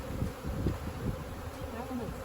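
Honeybees buzz around an open hive during requeening, a steady close drone filling the whole stretch with no talk over it.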